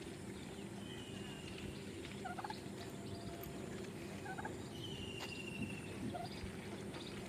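Turkeys gobble in a small backyard pen beside a house, the calls coming in several short bursts over a constant low hum of background noise.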